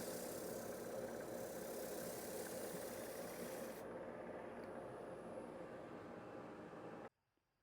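A spalted ash bowl is sanded on a spinning wood lathe, making a steady rushing, rubbing hum that runs evenly for about seven seconds and then cuts off abruptly.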